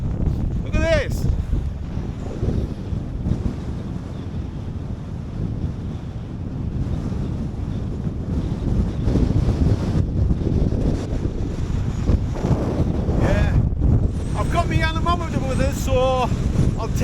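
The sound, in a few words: strong wind at a Lake District wild camp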